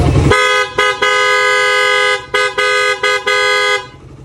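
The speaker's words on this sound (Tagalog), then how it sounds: "loud, stock horn" A motorcycle's stock horn, slightly faulty, honks close by with a bright, buzzy tone, one long blast followed by a series of short, choppy toots.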